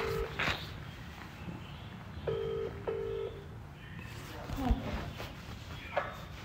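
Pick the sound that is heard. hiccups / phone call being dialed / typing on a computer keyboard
phone call being dialed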